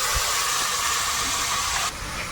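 Water poured into hot spiced oil in a cooking pan for a crab curry sets off a loud, steady steam hiss that dips slightly near the end.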